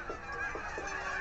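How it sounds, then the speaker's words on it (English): Several geese from a migrating flock of a couple hundred honk in short, repeated calls at Yellowstone, fairly close over a steady outdoor background with no talking. "We got the great geese migration going on here."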